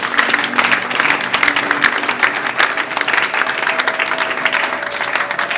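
A church congregation at a prayer service breaks into loud, sustained applause, dense continuous clapping from many hands with faint crowd voices beneath.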